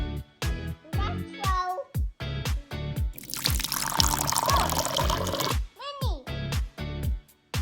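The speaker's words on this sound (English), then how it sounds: "pour the water into the glass" Water poured into a glass for a kids' home science experiment, one bright splashing pour lasting a couple of seconds between bursts of nearby talk and a voice.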